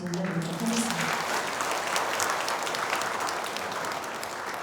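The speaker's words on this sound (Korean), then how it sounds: "하나님께 영광의 박수 한번 다시 올려드리도록 하겠습니다." A crowd applauds steadily at a church mission festival, a dense wash of clapping that holds at an even, fairly loud level throughout.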